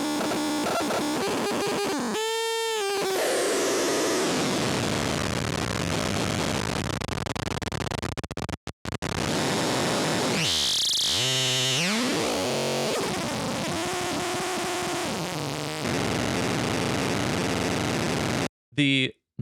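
Harsh modular synthesizer noise, with two elements cross-modulating each other, churns loud and continuous: distorted, chaotic textures, brief sharp dropouts, swooping tonal sweeps and a sudden cut near the end, with no voices.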